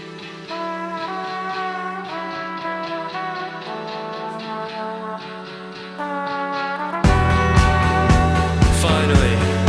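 Outro of an electronic song plays as dense layered music with sustained tones and melodic lines, swelling into a louder, fuller section near the end with no talking.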